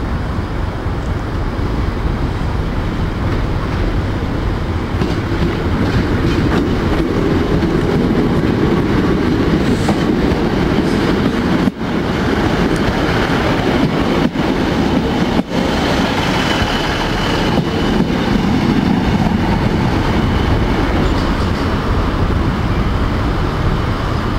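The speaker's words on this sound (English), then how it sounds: "We've got a HST coming into platform 1." An HST high-speed train pulls into platform 1 at a heritage railway station, its loud, steady rumble and wheel noise filling the air throughout, with a few brief clanks near the middle.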